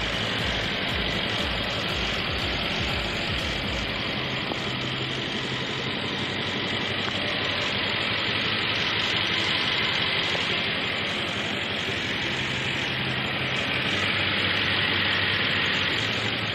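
A 2017 Mercedes-Benz C 63 S engine idles at a steady, continuous rumble, close and fairly loud, with broadband hiss over a low throb and no talking.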